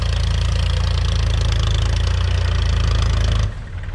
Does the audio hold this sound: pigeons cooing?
no